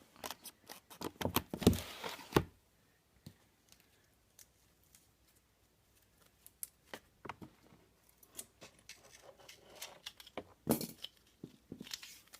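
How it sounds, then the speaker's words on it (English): Scissors snipping strips of tape while building a cat shelter: several quick crisp cuts and crinkles in a burst near the start, quieter handling, then another cluster of sharp snips toward the end, close and moderately loud. "You will need your scissors, obviously, to cut the tape."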